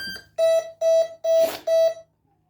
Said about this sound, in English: You heard the beeps, right?